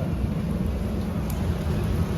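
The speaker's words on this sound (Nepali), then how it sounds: "बाहिर खतरा पानी पर्दैछ।" Heavy rain pours down outside, a dense, steady roar that stays loud and unbroken throughout, with no voices.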